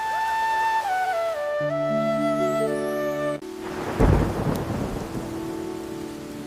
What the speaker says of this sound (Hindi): मूसलाधार वर्षा हुई